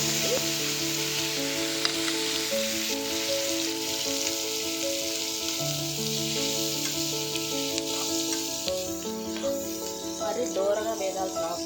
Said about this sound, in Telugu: ఫ్రై చేసుకుందామండి